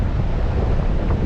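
Blustery wind buffets the microphone on a coast, with waves washing onto a sandy beach underneath, a loud continuous roar filling the short stretch without any talk.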